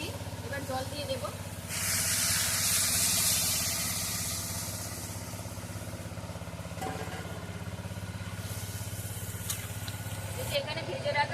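Water poured into a pan of frying spices for a fish curry with taro and potato, setting off a loud close hiss and sizzle that swells, then settles into steady bubbling frying.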